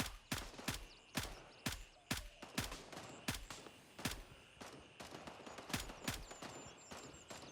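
Gunfire in the military shooter Grey Zone Warfare, a steady run of sharp, evenly spaced shots, close and loud, with a faint voice barely present underneath.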